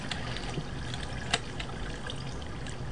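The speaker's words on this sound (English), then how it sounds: "You wait for water to come through the holes." Water in Minecraft pours through holes in a plumbing puzzle, making a constant, fairly loud rushing trickle that stays even throughout.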